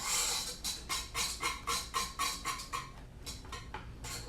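Loud, rhythmic squeaking bursts repeat about twice a second in a home kitchen while banana pudding is stirred on the stove until thick, then trail off into fainter, uneven squeaks.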